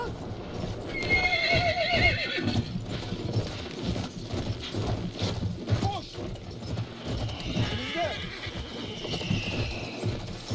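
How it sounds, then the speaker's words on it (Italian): A horse in the video game Battlefield galloping with rapid clip-clop hoofbeats throughout, neighing loudly twice amid gunfire and battle noise, with someone talking at times. "Ai, povero cavallo, no."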